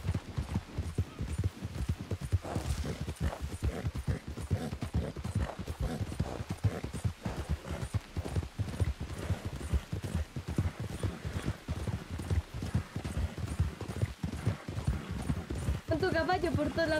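A horse gallops in Red Dead Redemption II, its rapid rhythmic hoofbeats drumming continuously beneath people talking throughout.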